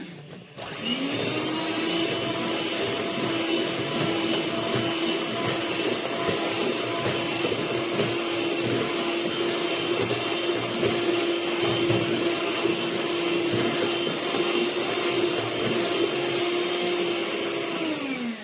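An electric mixer whirs through batter for Eid sweets made with milk, a loud, steady motor whine running unbroken for many seconds with no talking.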